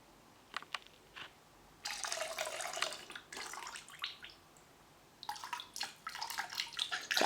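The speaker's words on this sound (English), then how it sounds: "I'm now going to pour some water into my bucket, and I normally use very hot boiling water" Very hot boiling water poured into a cleaning bucket for mopping floorboards, coming in gushing, splashing bursts with a short pause between pours, close and fairly quiet, with no talk.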